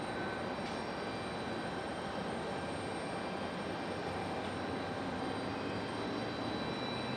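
A JetBlue jet airliner takes off and climbs steeply out of Raleigh-Durham International in stormy weather, producing a continuous, broad engine roar that stays steady and fairly distant, with no one speaking.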